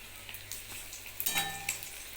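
Food frying in a pan, a soft steady sizzle with faint crackles and a brief clink of utensils partway through, fairly quiet and with no talking.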